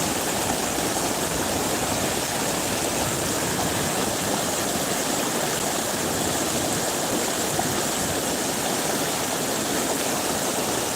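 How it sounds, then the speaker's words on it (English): A very low, algae-filled river flows and bubbles in a continuous dense wash of water noise, steady and near, with small surface ripples churning throughout. "I love the sound, the bubbles, the motion, the shadows, all of the little tiny surface waves"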